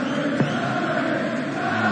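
A darts crowd at a World Championship quarter-final cheers for Callan Rydz, a sustained, rumbling roar of many voices that fills the hall without letting up.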